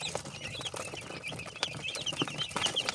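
Four-day-old quail chicks chirp close by in a home brooder, a dense run of high, thin peeps that overlap continuously, with no voices.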